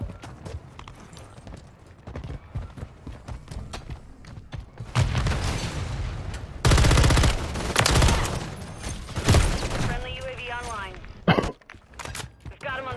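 Gunfire in a Call of Duty Modern Warfare III match: loud bursts of rapid shots and booms cluster in the middle, with heavy sustained volleys, followed by a radio-style voice calling out.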